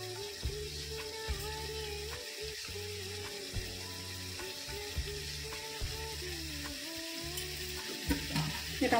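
Cauliflower stir-fried in a pan, a soft continuous sizzle with periodic scraping and tapping of stirring, under a steady low background hum, no speech.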